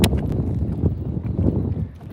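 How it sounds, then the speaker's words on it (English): Wind gusts buffet the microphone on open water during bass fishing from a boat, a steady low rumble with a sharp bump at the start. "the wind is starting to pick up."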